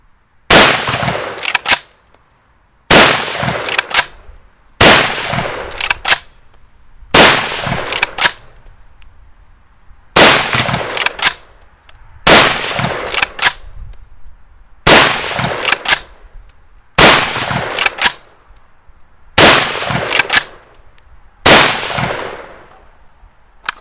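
WBP Jack Tactical AKM rifle firing .223 Remington rounds, about ten loud sharp shots spaced roughly two seconds apart, each followed by a ringing metallic clang and short echo decay outdoors.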